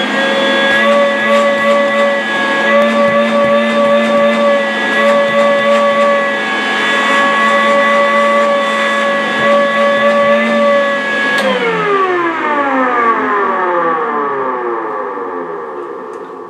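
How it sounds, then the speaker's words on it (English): A Makita 18V cordless wet/dry vacuum (DVC750LZ) runs on its lowest mode with a steady, loud motor whine for about eleven seconds, then spins down, its pitch sliding lower as it fades. "Let's see how strong the suction is and how loud the vacuum is. First, we're going to test the lowest mode."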